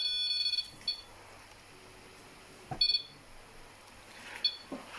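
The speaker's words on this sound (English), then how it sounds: "Alarm's going off, look." Electronic alarm beeping inside an old manor house, sounding as a few short bright bursts spaced through a quiet, faintly humming room, with no voices.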